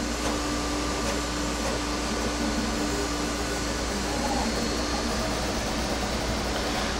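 A QIDI X Smart 3 3D printer runs a print, giving a constant whirring hum with a faint tonal whine from its motors and fans, steady and close throughout.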